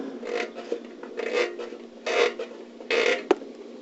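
An unclamped air vent hose is worked loose and pulled off an SSR Buccaneer motorcycle, giving a series of close rubbing, rasping scrapes in about four short bursts ending with a small sharp pop, with no talk.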